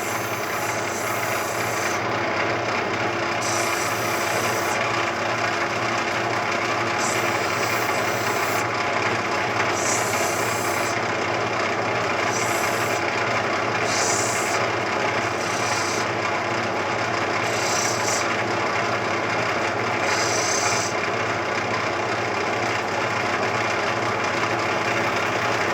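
A saw cuts through a piece of rough opal heavy with sand, giving a steady, loud grinding rasp that runs without a break the whole way, with a constant motor hum beneath it.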